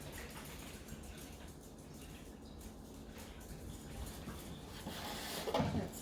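Water poured from a large container into a pot for homemade vegan bean soup, a quiet continuous splashing pour in a kitchen that builds slightly toward the end.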